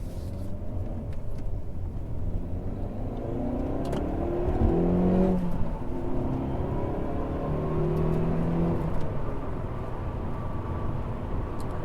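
A Hyundai Veloster N or Honda Civic Type R hot hatch accelerating hard through the rev range, a steady engine drone climbing in pitch over about twelve seconds with a brief shift, heard from inside without talk.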